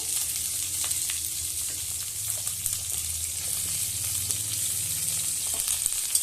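Cut okra and potatoes fry in a pan with a steady, moderate sizzle, broken by occasional faint clicks and stirring sounds.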